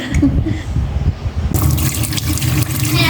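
Water runs from a tap, first a thin trickle, then a sudden stronger gush splashing steadily into a sink close by.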